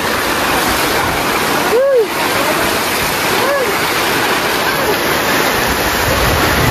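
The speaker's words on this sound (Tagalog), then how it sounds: "Inabutan na tayo ng bagyo." Typhoon rain and wind pound outside a house in a continuous loud roaring wash of noise, with a couple of brief chirping tones briefly cutting through the steady downpour.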